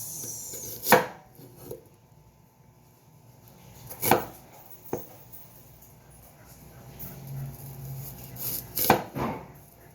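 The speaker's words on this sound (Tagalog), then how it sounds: "dapat po ay pahaba natin po yung sibuyas sa ating dinakdakan" Knife strikes on a board as an onion is chopped lengthwise for Ilocano dinakdakan, a few sharp isolated chops spaced seconds apart in a quiet kitchen.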